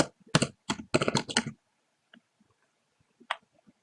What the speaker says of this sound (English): Now type in Towns Buffer.